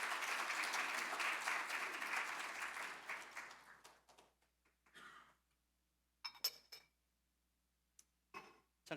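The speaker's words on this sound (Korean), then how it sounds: "우리 하나님께 큰 영광의 박수 한번 돌릴까요?" A church congregation at a Sunday ordination service applauds in a dense, steady burst that fades after about four seconds, leaving scattered faint claps and light clinks in a quiet room.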